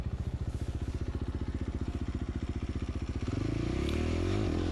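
A KTM FC450 dirt bike engine chugs in a rapid, even pulsing rhythm while stuck in snow, then revs up into a steadier, louder roar near the end.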